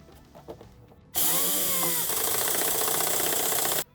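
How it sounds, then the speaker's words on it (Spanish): A power drill drives a self-tapping screw into the chassis of a 2006-2015 Nissan Primastar van, starting with a sharp burst and whirring loudly and steadily for nearly three seconds before cutting off, after a few faint knocks. "Con la ayuda de un tornillo autorroscante pondremos las"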